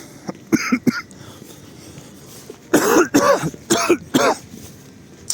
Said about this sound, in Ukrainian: Вибачте, що кашлю.